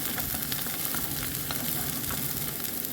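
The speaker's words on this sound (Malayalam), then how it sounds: "വഴറ്റിയെടുക്കാം" A moth bean stir-fry with curry leaves sautés in a pan, giving a close, steady sizzle with stirring scrapes and small pops throughout, and no voices.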